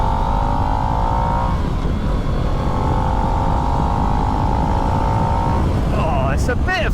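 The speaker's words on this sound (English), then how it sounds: "If you can hear the exhaust, it's very reminiscent of a sort of Ducati V-twin, like a Ducati Monster or something." A 2022 Harley-Davidson Nightster V-twin motorcycle drones loudly and steadily while riding, its exhaust note holding under heavy wind rush before a brief rise near the end.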